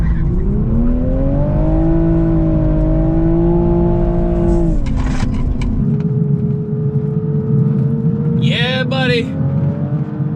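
Toyota Supra 45th Anniversary driven hard on a small technical track, its engine revving loud and close through a gear, dropping, then pulling again, with a brief chirp late on.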